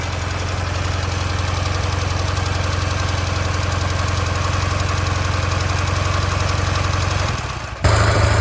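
An M-72 or Ural-type motorcycle engine runs steadily with its generator working, a loud, continuous close-up thrum with a slight change in tone near the end, no talking.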